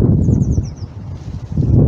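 Gusty wind buffets a microphone in low, rumbling surges that ease off in the middle, with a few faint bird chirps above, at Brammerton Woods End on the River Yare.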